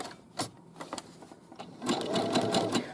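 A sewing machine zigzag-stitches slowly around the curved side seam of a garment with a pocket. It runs in short stop-start bursts, then settles into a steadier rapid whirring run, close and clear.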